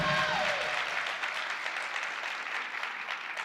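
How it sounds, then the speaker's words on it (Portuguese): Audience applause at a talk event in São Paulo, a dense wash of clapping that starts loud and tapers slightly, with a brief voice at the very start. "Uma salva de palmas por causa disso"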